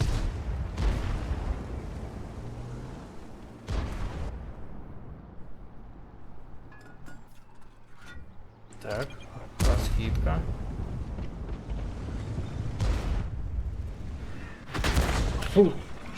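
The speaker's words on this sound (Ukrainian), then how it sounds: "ще й арта кинула по мені" Artillery shells landing in a World of Tanks–style tank battle game, sharp booms and blasts at about 4, 10 and 15 seconds with lighter gunfire between, over steady engine and battle rumble; someone talks throughout.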